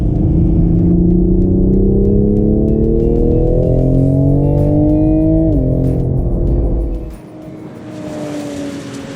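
A 2020 Toyota Supra's engine and exhaust roar on a hot lap, loud and close, pitch climbing steadily under acceleration, then a sharp upshift drop and a lift-off as the sound fades into quieter exhaust burble.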